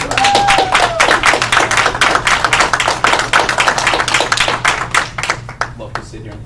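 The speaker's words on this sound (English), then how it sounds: "I think they deserve another round of applause." A round of applause rings out at a school board of education meeting, many hands clapping in a dense, steady patter that holds loud for several seconds before thinning out near the end.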